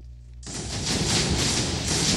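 A TNT firework from the Minecraft Too Many Explosives mod detonates after a brief quiet hum: a sudden loud blast that turns into a sustained, roaring crackle of explosions lasting nearly two seconds.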